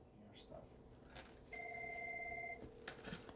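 A telephone rings once with a steady electronic trill for about a second amid quiet room noise.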